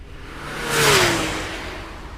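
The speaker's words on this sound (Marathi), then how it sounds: "नयनने पुढचा गिअर टाकत गाडी सुसाट वेगाने पळवायला चालू केली" A car on a highway sweeps past at speed, its engine note swelling to a brief loud whoosh and then fading away.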